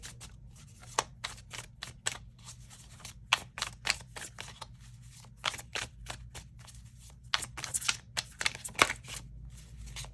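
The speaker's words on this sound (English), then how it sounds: "one more shuffle here" Tarot cards being shuffled in quick riffling bursts, crisp flutters and snaps repeating close by with short pauses between.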